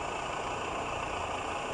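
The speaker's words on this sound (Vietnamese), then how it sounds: "Xe đang nổ máy luôn." A 1998 Toyota Camry engine idles with the hood up, a steady, even mechanical hum and drone heard up close with no other sounds.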